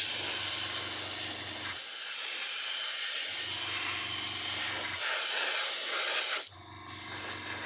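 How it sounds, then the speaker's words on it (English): An aerosol can of matte varnish hisses in long, steady sprays separated by short pauses, close and loud, with a sharp click near the end. "as I spray this side"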